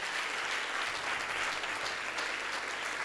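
Audience applause at a playback show, a loud, continuous burst of clapping from a packed crowd that stays even and dense from start to finish.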